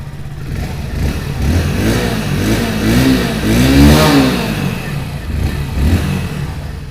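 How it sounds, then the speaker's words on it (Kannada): A Hero Splendor Plus Xtec 2.0 motorcycle from 2024 runs its small engine close by, rising and falling through several loud revs in a wavy pattern before settling back toward idle. "ಈಗ ಬೈಕ್ನ ಆನ್ ಮಾಡ್ಕೊಳ್ಳೋಣ್ರಿ. ಅದ್ರ ಜೊತೆಗೆ ಬೈಕ್ ಸೌಂಡ್ ಒಂದು ನೋಡ್ಕೊಂಬಿಡೋಣ."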